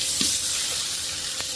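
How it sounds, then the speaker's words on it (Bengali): Water poured into a pan of frying onions, seasoned with green chilli and salt, while cooking a hilsa fish curry: a steady, fairly loud rushing pour over a soft sizzle, with no talking. "পেঁয়াজ ভাজা হয়ে গেছে, একটু পানি দিব কষানোর জন্য"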